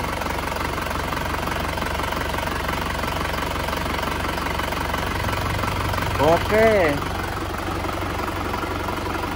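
Isuzu Panther diesel engine idling with heavy blow-by from a broken piston ring, a steady low knocking rumble running throughout, with a brief voice and a short whine near the end.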